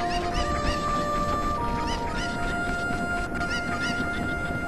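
Cuccos, the chickens of Ocarina of Time, cluck and squawk in a busy repeated chorus over steady game music, the calls clear and close throughout.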